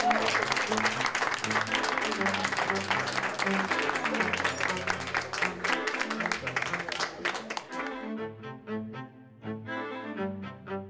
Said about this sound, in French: Elle est donc déclarée vainqueur et je vous demande de l'applaudir.